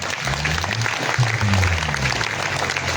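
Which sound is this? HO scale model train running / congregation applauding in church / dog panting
congregation applauding in church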